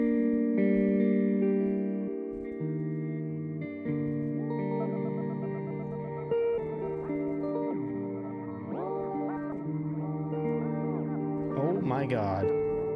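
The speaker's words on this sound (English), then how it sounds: "what if we add pitch loop 89 after our warping looper?" Ableton Pitch Loop 89 effect placed after a warping looper, producing layered sustained tones that shift into repeating, pitch-swept warbling echoes which grow denser and rise in pitch toward the end, continuous and fairly loud.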